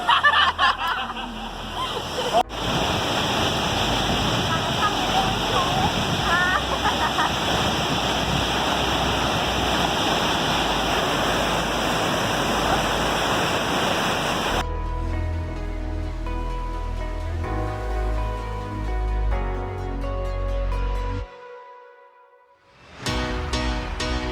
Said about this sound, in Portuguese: Cachoeira de Santa Bárbara aqui,